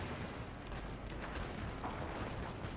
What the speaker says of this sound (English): Oh, that's a lot of firing.